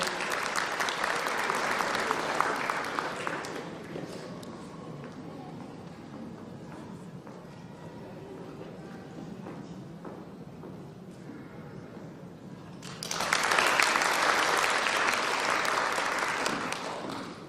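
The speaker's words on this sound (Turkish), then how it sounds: "alkışlarınızla sahneye davet ediyorum" A concert audience welcomes a female soloist to the stage for a Turkish song with warm, full applause. It fades to a quieter hall for several seconds and then surges back strongly near the end.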